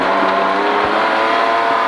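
A rally car at speed on a stage rally, engine droning loudly and steadily for a couple of seconds with broadband road and wind roar, close by, no talk.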